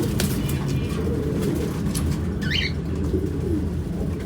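Pigeons coo in a low, continuous murmur that rolls on steadily for the whole stretch, with a faint higher chirp about halfway through.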